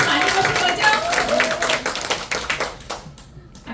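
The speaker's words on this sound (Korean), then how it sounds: "큰 박수 부탁드리겠습니다" Audience clapping at a network-marketing recruitment seminar, a dense burst of hand claps right after an introduction that starts strong and thins out toward the end, with voices mixed in.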